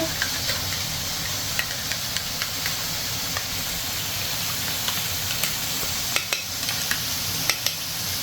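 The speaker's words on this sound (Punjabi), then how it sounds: "ਇਹਨੂੰ ਚੰਗੀ ਤਰ੍ਹਾਂ ਜੀ ਕਰ ਲੈਂਦੇ ਆ ਹੁਣ ਮਿਕਸ" A tadka of crushed ginger, garlic and chili frying in a pan, a constant close sizzle and hiss with light, irregular clicks and taps from stirring throughout.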